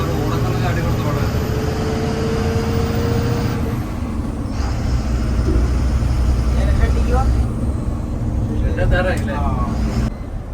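A brand-new 12-metre Ashok Leyland tourist bus drives over a bumpy road, giving a loud, steady low engine and road rumble with rattles and knocks from the body throughout.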